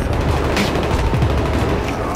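Gunfire in Battlefield 3 during a multiplayer match on Operation Métro, with rapid overlapping shots and booming reports in a loud, continuous exchange and faint player voices underneath.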